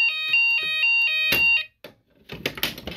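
A Hochiki fire alarm sounder sounds during a system test, giving loud repeated electronic alarm tones in short pulses, then a brief gap followed by broadband clatter and noise.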